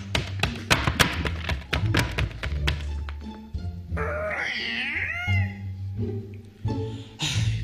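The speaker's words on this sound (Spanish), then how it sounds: "Pasos en la puerta" Footsteps approaching a door, performed as a live radio-drama sound effect in a Bolivian studio: a quick run of close, sharp taps and thuds for several seconds, followed by a wavering creak-like squeal and a few more knocks.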